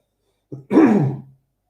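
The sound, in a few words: commentator clearing his throat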